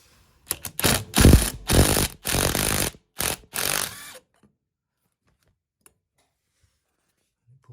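A drill spins a puller tool to draw a brass olive off a copper pipe, giving several short loud whirring bursts with gaps between them, followed by near silence.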